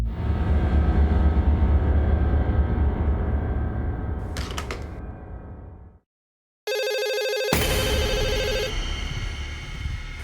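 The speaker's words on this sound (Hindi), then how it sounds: "मुझे फोन आ रहा है।" A telephone rings loudly after a low rumbling passage cuts to silence, its electronic bell tone sustained for about a second before another loud noise rushes in.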